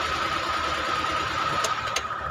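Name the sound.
Suzuki car engine started and running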